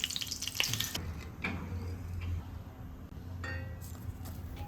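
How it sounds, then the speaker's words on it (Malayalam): Curry leaves hit hot oil for masala kappalandi and fry with a steady, faint crackling sizzle, broken by a few clinks of a utensil against the pan. "ചൂടായി കിടക്കുന്ന എണ്ണയിലേക്ക് കുറച്ച് കറിവേപ്പില ഇട്ട് വറുത്ത് കോരണം"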